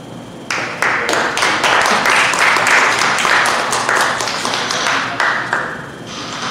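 A crowd breaks into loud applause for heavyweight boxer Dominic Breazeale, starting after a brief lull, sustained clapping with a few sharp taps standing out before it thins toward the end.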